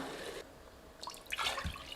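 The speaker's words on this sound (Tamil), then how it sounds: "இப்போ நாலு டம்ளர் தண்ணி விட்டுக்கலாம்" Water is poured from a tumbler into a pot for chicken dum biryani rice. After a quiet moment there is a short burst of close splashing and trickling.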